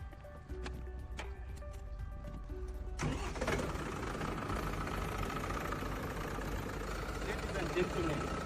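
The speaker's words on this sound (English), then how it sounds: "Ladies and gentlemen, this is the sound of the tractor." A Farmtrac tractor with a turbocharged engine idles steadily after a starting clunk about three seconds in, a continuous low mechanical rumble with broadband clatter running loud and close for the rest.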